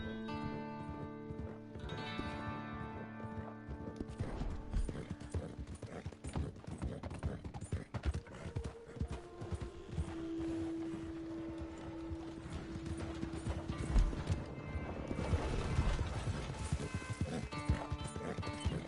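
Steady clip-clop of horse hooves runs throughout over a layered Red Dead Online game soundscape, with a skittish horse whinnying partway through.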